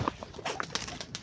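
A pet blue bar pigeon coos in short, soft bursts, several low murmuring calls close by over a little background noise.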